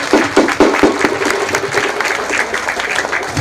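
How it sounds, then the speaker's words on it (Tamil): Audience clapping and cheering at a temple ceremony, a loud, dense round of applause that starts with a few strong claps and then settles into a steady wash of hands. "அனைவரும் ஆரவாரம் செய்து கைத்தட்டுமாறு கேட்டுக்கொள்கின்றோம்."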